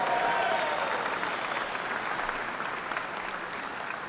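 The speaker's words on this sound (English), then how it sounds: "round of applause" An audience applauds at a Congressional Gold Medal ceremony honoring the 65th Infantry Regiment. The clapping is steady and full from the start, easing slightly toward the end, with no voices over it.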